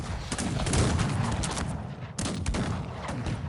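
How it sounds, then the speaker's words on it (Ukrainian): Rapid volleys of artillery cannon fire in the strategy game Cossacks 3, dense overlapping booms and cracks crowding together loudly, with a brief lull near the middle before a fresh barrage erupts. "Артилерія."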